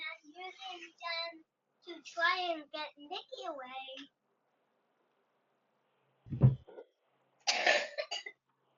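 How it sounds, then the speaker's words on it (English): A person speaks in short phrases, then after a pause lets out a sharp, close cough followed by a raspy throat-clearing sound. "You sound like you need some cough medicine."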